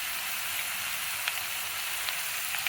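Mutton frying in a pan for a mutton nalli and bottle gourd dish, a steady close sizzle with a few faint pops and no voices.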